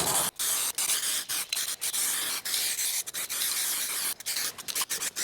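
A paint spray gun lays base coat onto a rusty van, its nozzle partly clogged and splattering, giving a loud close hiss in repeated strokes broken by brief pauses between passes.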